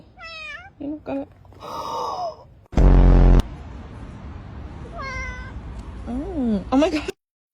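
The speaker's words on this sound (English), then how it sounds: "Look at this little kitten." A little kitten meows in several short rising-and-falling cries, close and clear, while people talk and react nearby; a brief loud burst of noise interrupts midway.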